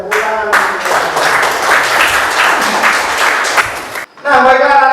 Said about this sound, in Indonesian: Silakan duduk kembali dan tepuk tangan